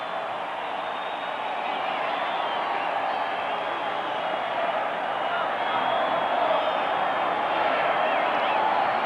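Large football stadium crowd in Denver during a 49ers–Broncos game produces a steady, distant roar and murmur that swells slightly near the end, with no distinct cheers or applause.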